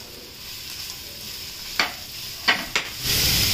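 Thinly sliced onions sauté for biryani in a hot pan with a steady sizzle, broken by a few sharp stirring scrapes near the end and a louder frying surge in the last moments; no voices.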